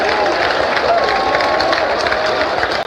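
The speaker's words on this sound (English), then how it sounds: "Clapping their hands rhythmically, trying to cheer Segura on to striking out the side." A home crowd at an Oregon State college baseball regional game in Corvallis claps in rhythm and cheers as its pitcher nears a strikeout, a dense, loud wash of applause and voices filling the stadium.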